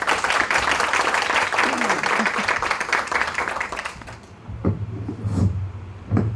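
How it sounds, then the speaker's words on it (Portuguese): Audience applause welcoming a speaker onto the stage at a live event, dense sustained clapping for about four seconds that fades out, followed by faint room sounds and murmurs. "convidamos ao palco, com aplausos, o palestrante Daniel Uzeda."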